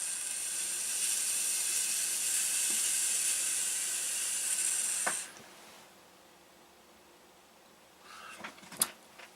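Vapour drawn through a Manta atomizer on an e-cigarette with a 1.2 ohm build: a steady airy hiss for about five seconds that stops abruptly, followed by quiet and a few small clicks near the end.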